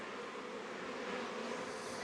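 A dense, steady drone of honey bees buzzes around brood frames pulled from a hive in an apiary, close and continuous, with no voices over it.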